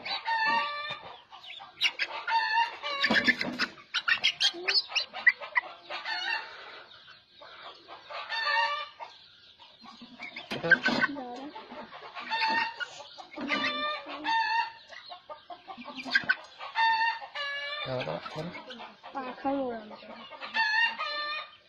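A close flock of native desi chickens clucking steadily in bursts, with a rooster crowing among them and no voices.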